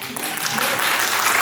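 An audience at an Indian dance show breaks into applause, a short, loud burst of dense clapping that swells slightly and holds steady.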